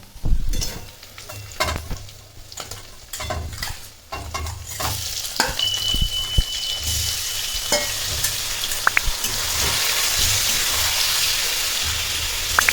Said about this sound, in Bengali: আমি এবার চিকেনটা দিয়ে দেবো পেঁয়াজের মধ্যে।